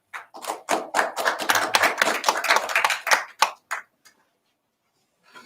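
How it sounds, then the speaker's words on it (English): A short burst of hand clapping from an audience welcoming a student to the stage at an English speech contest, crisp individual claps rising quickly, holding for about three seconds, then tapering to a few stray claps and silence. "And let's give him a great applause."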